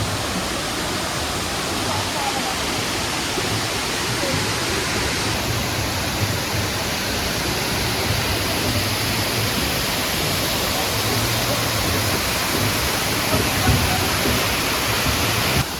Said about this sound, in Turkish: Çok sesliymiş. Sesleri var değil mi derenin?